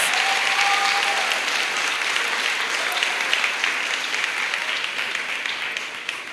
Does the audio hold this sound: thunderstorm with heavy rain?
no